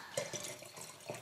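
Water being poured makes soft, close trickling and splashing in a few brief spurts, quiet overall.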